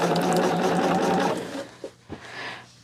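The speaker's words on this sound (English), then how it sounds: "now I'm sewing the real first two of the first row together" A sewing machine stitching quilt pieces together, a steady fast mechanical whirr that stops partway, followed by a couple of soft handling clicks.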